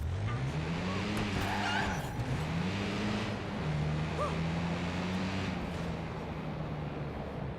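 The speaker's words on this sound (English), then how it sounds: "Sick burnout!" Video game car from Watch Dogs 2 doing a tire burnout: a steady engine drone with rising and falling pitch runs continuously at close range, with tire squeal mixed in throughout.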